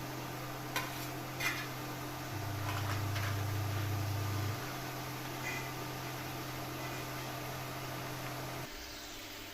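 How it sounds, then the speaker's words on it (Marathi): Chopped onion sautéing in a pan over a medium gas flame, a steady soft sizzle and hiss with a brief louder stretch of frying, running on alone without talk. "आता त्याला मस्त मीडियम फ्लेम गॅसवर मस्त परतून द्यायचं आहे"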